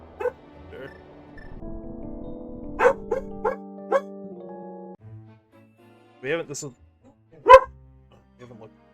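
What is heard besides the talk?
dog barking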